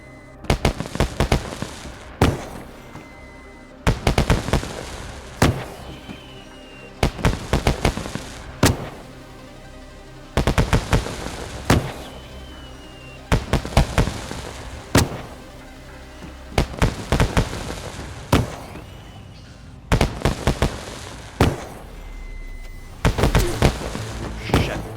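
Repeated bursts of fireworks in the survival video game DayZ, loud crackling volleys that go off in clusters every couple of seconds for the whole stretch, with a faint ambient hum between bursts.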